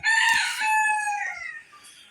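A large rooster crows once up close, a loud, strained call that holds and then trails off over about two seconds.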